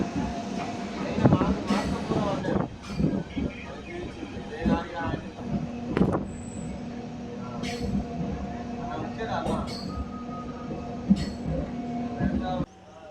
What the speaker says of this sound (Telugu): గజ్జలకొండ నుంచి మన ట్రైన్ బయలుదేరిపోయింది